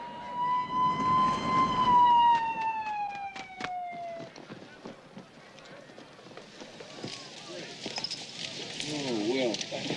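An ambulance siren wails loud and close for several seconds, its tone sliding downward and fading, then gives way to a busy jumble of movement and background noise.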